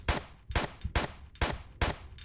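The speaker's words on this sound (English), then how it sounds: "Look how many gunshots." Five gunshots in Tomb Raider III fire at a steady, rapid pace, each a sharp loud crack with a brief tail.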